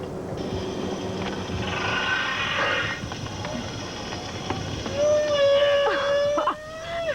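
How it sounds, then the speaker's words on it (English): A humpback whale sings underwater: rising, moaning tonal calls over a constant hiss of water noise, growing stronger near the end. "we'll see if we have a whale singing out there"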